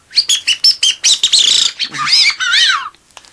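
A handmade instrument imitates the song of a common chaffinch, playing a quick, close run of bright chirps that ends in a falling, warbling flourish, with nothing else heard.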